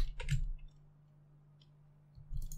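Keyboard keys tapped on a computer while entering a username, a short burst of quiet clicks at the start, a pause with a low steady hum, then another brief cluster of taps.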